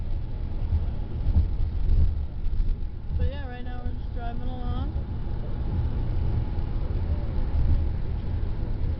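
Inside a car driving along a highway on a road trip, a steady low rumble of road and wind noise fills the cabin, with a voice speaking briefly partway through.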